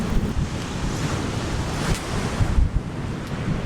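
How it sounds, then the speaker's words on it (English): Wind gusts buffet the microphone over breaking waves on a bay beach in Baja California, a loud and rough wash of surf that rises and falls with low thumps. "A little windy on this side of the bay"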